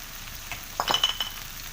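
Garlic and cabbage fry in a pan with fish sauce over low heat, a soft steady sizzle broken by a few brief scraping stirs and light clinks from the utensil.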